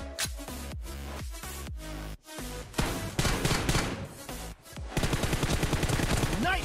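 Repeated bursts of M416 rifle fire in PUBG Mobile, a 1v1 custom warehouse match: sharp, loud shots in quick rhythmic strings, separated by brief gaps, then denser sustained firing.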